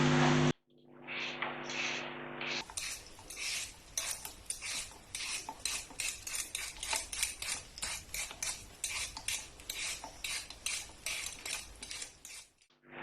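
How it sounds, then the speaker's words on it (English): Potatoes are peeled by hand in a kitchen with a rhythmic series of short scraping strokes, close and fairly quiet, following a brief musical jingle at the start. "First job, we've got to peel them."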